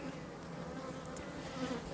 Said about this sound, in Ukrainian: Це дуже злі бджоли